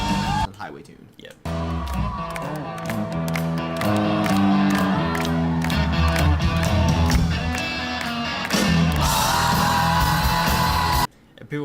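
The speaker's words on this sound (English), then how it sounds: "And people were screaming to get him back on the stage." A concert crowd at a show screams and yells for an encore, a loud sustained roar of many voices with whoops, lasting several seconds before cutting off.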